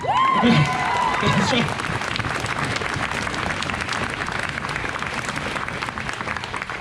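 A crowd applauds at an outdoor protest march speech, dense steady clapping sustained throughout, with a brief tonal sound and some voices at the start.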